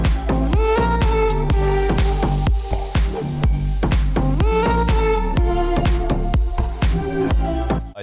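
Electronic music track, a loud, punchy loop of deep bass hits, crisp percussive clicks and short melodic synth stabs in a steady groove, with no vocals.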